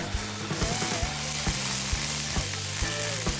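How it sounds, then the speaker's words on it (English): Brandy hisses and sizzles loudly as it deglazes a hot cast iron pan holding shallot and peppercorns, a close, steady fry broken by repeated scraping strokes, with no voices. "we deglaze the pan with brandy. And we burn off the alcohol in the brandy."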